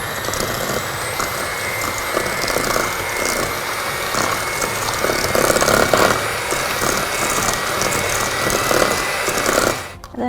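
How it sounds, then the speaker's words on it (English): Electric hand mixer creaming butter and brown sugar in a bowl for s'mores cookie bars, a steady loud whirring drone running unbroken for about ten seconds before cutting off abruptly at the end. "So you'll take your hand mixer, or you can do it by hand, whatever you'd like to do,"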